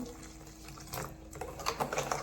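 Water pours into crab legs ground in a mixer for a Marathi crab curry, a soft splashing trickle that swells slightly toward the end, faint and alone.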